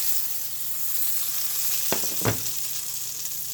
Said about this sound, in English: We're going to start with some butter, a little bit of olive oil. Just kind of work that around in the pan.